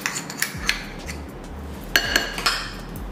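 Metal spoon clinks against a bowl while red chili sauce goes into a yogurt mutton marinade for Schezwan mutton boti, several sharp close taps in two bursts.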